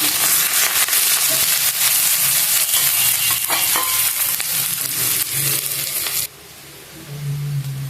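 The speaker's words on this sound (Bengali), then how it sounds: "এবার আমি দিয়ে দিচ্ছি পেঁয়াজ কুচি" Chopped onions hit hot oil after fish roe has been fried, giving a loud, dense sizzle with stirring scrapes for about six seconds before the frying sound drops to a quieter hiss.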